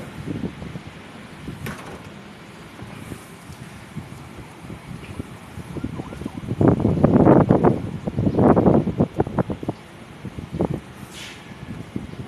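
Gusty wind of shifting direction buffets a microphone in uneven bursts during kite flying, rising into two strong rushes midway before easing back to a lighter outdoor rumble.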